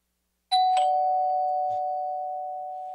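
A single bell in the Devil's Trick: Demon Inquisitor video game strikes twice in quick succession, then one clear tone rings on and fades slowly.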